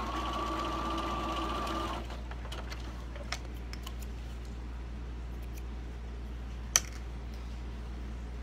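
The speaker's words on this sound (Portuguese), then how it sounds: "Agora eu costuro em cima da linha." Sewing machine stitching along a marked line on fabric and lining for an Easter treat bag, running steadily and fairly loud for about two seconds, then stopping, leaving quiet room tone with a couple of faint clicks.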